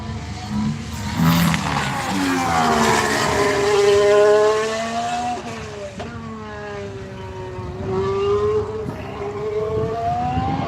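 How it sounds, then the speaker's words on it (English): A Haas Formula 1 car passing during pre-season testing, its high engine note rising and falling through gear changes as it sweeps by fairly close, loud and sustained over about ten seconds, with a siren-like whine. "Got the Haas coming through."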